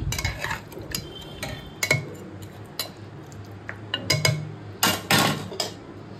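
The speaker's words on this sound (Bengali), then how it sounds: "দিয়ে ভালোভাবে নাড়িয়ে নিচ্ছি।" A spoon stirs mutton curry with hot water in a metal pot, producing irregular clinks and scrapes against the pot, close by, with short bursts and small pauses between them.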